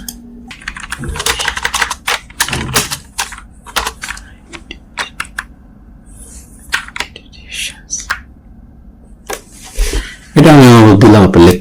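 Typing on a computer keyboard while filling in an online bank job application form, scattered bursts of close key clicks with pauses between them, and a voice talking at points.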